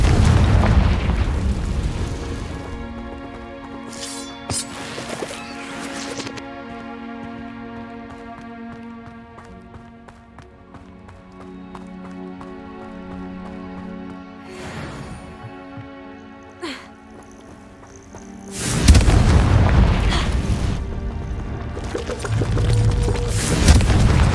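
Confringo fire-spell explosions in the video game Hogwarts Legacy: several loud booming blasts, the heaviest and longest near the end, set over a sustained tonal game-music background.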